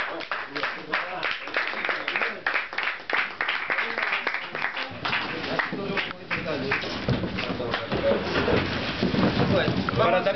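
An audience at a tango performance breaks into loud applause, a dense, sustained crackle of many hands clapping, with voices mixed in at the start.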